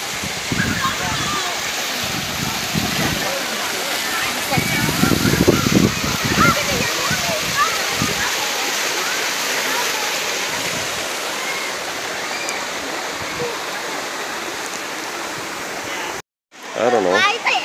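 Water rushes steadily over rocks in a river at a natural swimming spot, loud and continuous all the way through, with wind buffeting the microphone and a brief cut near the end.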